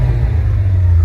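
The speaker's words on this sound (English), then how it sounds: "Let's go ahead and give this thing a rev and see what it's sounding like" A turbocharged car engine at a Copart salvage lot gives a brief, loud, low rev, a deep steady rumble heard up close with no talking.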